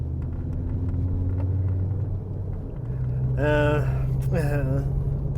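A Volkswagen Golf Mk4 drives along with a steady low engine and road rumble inside the cabin, the engine note shifting pitch partway through, while someone talks briefly over it.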